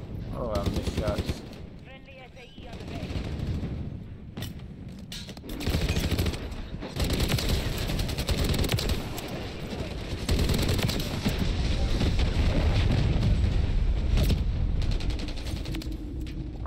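Rapid automatic fire from a BAS-B rifle in Modern Warfare 3 rattles in loud, repeated bursts with booming impacts, nearly continuous throughout, with brief bits of talk underneath.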